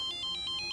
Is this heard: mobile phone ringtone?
yes